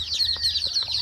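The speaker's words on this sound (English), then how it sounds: "look at the hen and her baby chickies helping themselves to my hilltop tomatoes" A hen clucks softly near her chicks as they feed on hilltop tomatoes, with a few short clucks and chirps over a steady high-pitched insect or bird drone in an outdoor garden.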